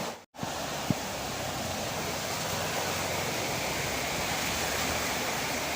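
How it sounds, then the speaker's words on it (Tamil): Floodwater rushing forcefully toward a lake during heavy cyclone rain, a loud, close, continuous roar of churning water that starts after a brief dropout and holds steady throughout. "சவுண்டு கேட்கலாம் தண்ணி வரது உங்களுக்கு."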